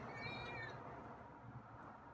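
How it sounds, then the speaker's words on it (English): A feral cat gives a single drawn-out meow of moderate strength, close and alone, fading out after under a second into quiet. "I'm not sure how to interpret that meow"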